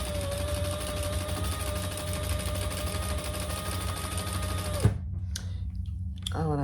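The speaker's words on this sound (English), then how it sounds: "So we're going to sew those 2 together." A domestic sewing machine running steadily at close range on a small stitch length, joining two pieces of fabric, with a continuous mechanical hum and rapid needle rhythm that stops abruptly near the end, followed by a few faint clicks.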